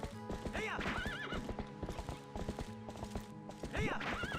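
Epona, the horse in the Zelda Twilight Princess HD video game, gallops with steady rhythmic hoofbeats and lets out a loud whinny twice, set against game music and ambience.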